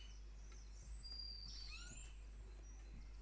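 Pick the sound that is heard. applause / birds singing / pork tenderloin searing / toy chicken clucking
birds singing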